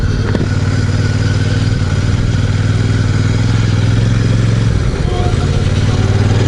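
A Royal Enfield Super Meteor 650 in Celestial Red rumbles along on the road with a loud, steady low engine drone and constant wind rush throughout.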